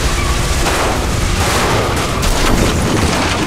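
Loud, roaring shotgun blast and chaotic crashing in The Walking Dead game, a thick wall of noise that swells and stays intense throughout.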